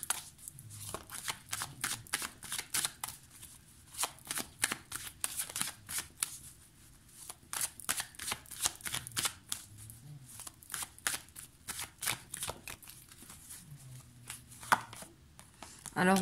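Tarot cards being shuffled by hand, a close series of crisp riffling and slapping bursts in an irregular rhythm, with soft pauses between handfuls.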